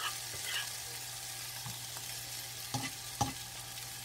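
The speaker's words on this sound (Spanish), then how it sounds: "Ahora vamos a sofreír" Mushrooms and sausages sautéing in a frying pan, a constant quiet sizzle and hiss with a few faint clinks and scrapes, close up and without talk.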